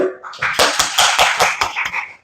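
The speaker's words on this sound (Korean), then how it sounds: "다시 한번 박수 크게." Loud, rhythmic group clapping from a lecture audience, a quick run of about eight strong, evenly spaced claps in unison.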